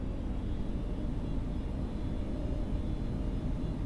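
A32NX airliner in Microsoft Flight Simulator 2020 on landing approach gives a steady, loud low rumble of engine and airflow with no breaks.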